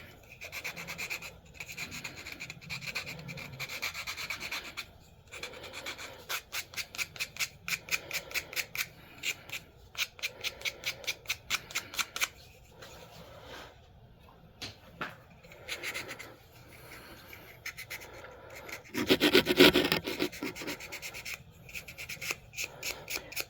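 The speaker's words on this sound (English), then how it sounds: "on the end, you just do a little sanding on it" Sanding a small wood-turned snowman Christmas ornament, heard as steady rasping rubs in repeated bursts of strokes, some quick and rhythmic, with brief pauses and a louder scrubbing burst near the end; no talking.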